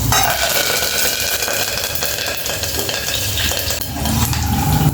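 Dal poured into a cooking pot for cucumber dal (dosakaya pappu) and stirred, a steady wet scraping and bubbling sizzle with occasional utensil clinks against the pot, loud and continuous throughout.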